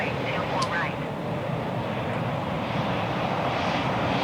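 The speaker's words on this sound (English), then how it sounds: "American 737 just touched down 25 left" A Boeing 737 landing at Los Angeles International Airport in Microsoft Flight Simulator 2020, a steady broadband engine roar holding at an even level throughout, with no talk.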